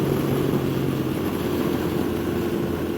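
A Moto Guzzi V7 mk2 750cc motorcycle cruises at high speed in fifth gear on the road, a steady continuous engine drone mixed with heavy wind rush, with no change in pitch or level.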